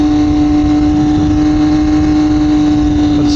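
A 2021 Triumph Daytona 765 Moto2 sport bike being ridden, its engine a loud, steady, close drone with a strong sustained tone and continuous wind noise throughout.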